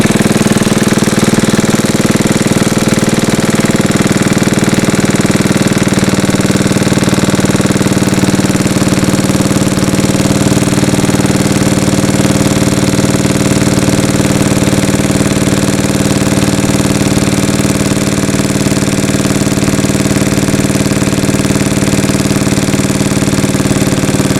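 A 74-year-old Briggs and Stratton engine runs on a dyno with a loud, steady, rattling drone that holds constant close up for the whole stretch.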